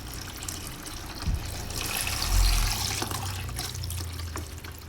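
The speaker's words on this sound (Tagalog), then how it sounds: "Tubig na to pandilig." Running water for watering plants splashes steadily from a tap or hose, a continuous watery rush with a brief louder gush midway, heard close up.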